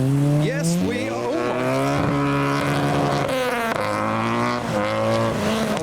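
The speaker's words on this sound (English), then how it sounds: "Are we going to get accelerations from the Tesla?" Tesla accelerating away from a car show in heavy rain, a loud rising electric whine that climbs in pitch and sweeps past up close.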